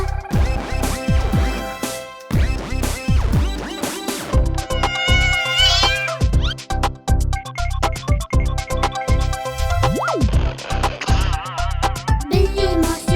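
Repeated cat meows ring out over and between a lively Hindi nursery-rhyme musical backing, coming in short bursts throughout.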